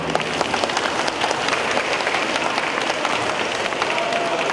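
Audience applause at a live solo concert in Shishi, steady dense clapping spread evenly across the whole stretch, fairly loud and sustained with crowd murmur mixed in and no clear speech over it.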